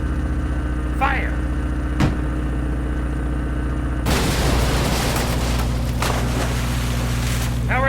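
Ship guns firing and exploding in an audio drama, a sudden heavy blast that gives way to a loud, sustained roar over a constant engine drone, with a few sharper cracks and sweeping tones.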